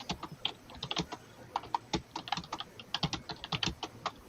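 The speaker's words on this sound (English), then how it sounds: "Those are the loudest keys in the world." Loud clattering keystrokes on a computer keyboard, a fast irregular run of sharp clicks close to the microphone, with no talking.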